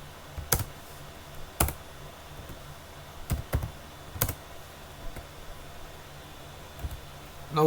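Scattered clicks of a computer keyboard while code is typed, sharp isolated keystrokes and brief clusters over quiet room hiss, no talk.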